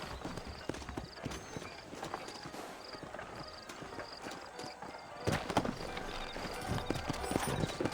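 Horse hooves clip-clop steadily in a Western setting in Red Dead Redemption, a continuous rhythmic clatter that grows louder and busier partway through.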